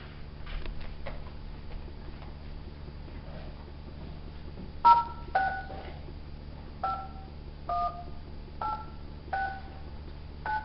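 A telephone number is dialed during a stage play: after some faint handling noise, a series of about seven short, evenly spaced dialing tones sounds clearly over quiet room noise.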